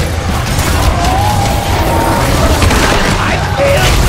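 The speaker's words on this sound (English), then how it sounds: "They've destroyed our barricades." Barricades being smashed and destroyed in the video game OMDU, a dense burst of booms, crashes and mechanical clatter layered under in-game voice lines.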